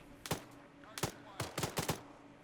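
Gunfire in an alternate-history Second Korean War search-and-rescue game, heard as five sharp single shots in an uneven rhythm over about two seconds, then a close pair. The shots are fairly faint and distant over a quiet background.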